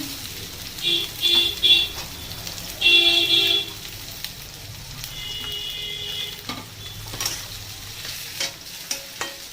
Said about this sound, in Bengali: একটু ভাজা ভাজা একটু হয়ে যাবে, দিয়ে দেবো পেঁয়াজ কুচি